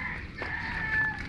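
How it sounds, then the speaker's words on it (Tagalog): A backyard chicken on a rural Philippine property gives short clucking calls, moderately near over low ambient noise. "Yan na din yung manok namin."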